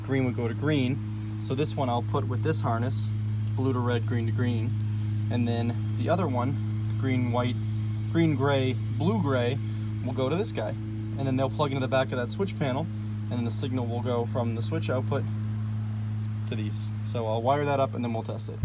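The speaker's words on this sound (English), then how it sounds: "Sorry about the lawnmower" A lawnmower drones steadily in the background for the whole stretch, a low, even hum sitting under continuous close-up talk.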